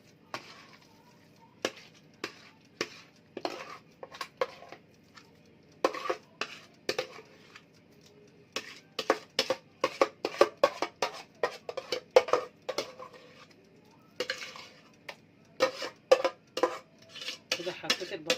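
Potato slices laid one by one into a greased baking tray, a series of light clacks and taps in irregular bursts, with short pauses between groups of placements.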